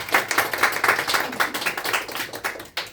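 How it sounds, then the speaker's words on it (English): Small group clapping after a player's turn in a Mafia party game, a short run of uneven, close hand claps with a final burst before stopping. "Round of applause for Mr. Artist."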